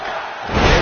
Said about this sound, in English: The crowd on hand tonight clearly fired up for this match here on Superstars